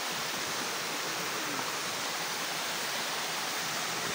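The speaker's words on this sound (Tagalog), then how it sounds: "Falls. Ito yung falls. Troto na falls." A waterfall roars as a dense, steady broadband rush, loud and unbroken throughout with no voices over it.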